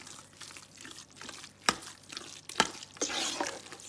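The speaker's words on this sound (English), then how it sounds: "So we're just gonna mix that around, mixing it really, really well." Brunswick stew ingredients stirred in a pot, a soft wet sloshing and scraping with a couple of sharper knocks of the spoon against the side, close and moderately quiet, no talking.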